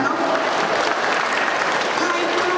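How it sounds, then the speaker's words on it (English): An audience at a panel event claps steadily and loudly for a guest, a dense, even wash of applause from many hands throughout. "Round of applause for Iona, our first question at the panel."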